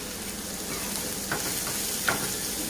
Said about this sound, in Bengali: পেঁয়াজ রসুন ভেজে নেব